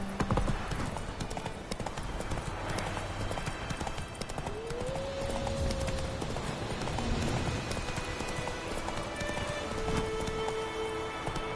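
Horse galloping in The Witcher 3, a steady rapid clip-clop of hooves running through a continuous dense background of game ambience.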